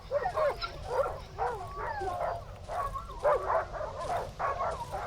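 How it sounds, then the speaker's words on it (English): Several dogs in the horror game Darkwood bark and yip in quick, overlapping bursts, moderately loud and close, with faint whining between barks over a low ambient rumble. "So there were a lot of dogs in here barking"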